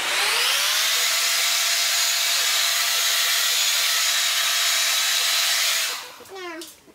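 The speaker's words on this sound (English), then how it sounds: "Blow dry on cool." A hair dryer set to cool blows in a steady, loud, continuous whoosh while a frontal lace wig is being installed, then cuts off near the end, leaving a short, faint trailing noise.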